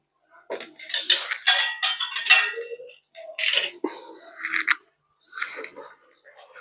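Tomatoes tipped into a pan of cooking gravy for a gathiya tameta curry, giving clattering, scraping bursts of utensil and pan contact in several short clusters, fairly close, with pauses between them.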